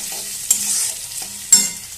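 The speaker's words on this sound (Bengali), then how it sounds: "গ্যাসের ফ্লেমটা একটু একটু লোতেই রাখতে হবে তাহলে কলাইটা বেশি পুড়ে যাবে তো বন্ধুরা এইভাবে ভালো করে ভেজে নিচ্ছি" Urad dal (kalai) fries on a low flame in a pan, a steady close sizzle broken by two scraping stirs of a spatula about a second apart.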